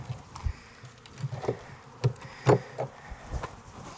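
Honey bees during a November apiary hive inspection in Jacksonville, Florida, producing faint, scattered buzzes and brief close fly-bys against a quiet outdoor background.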